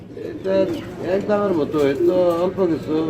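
German shield pigeons coo close by in a steady run of soft, throaty, rolling calls that swell and fade over a few seconds.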